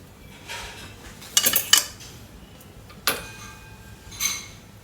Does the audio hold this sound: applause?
no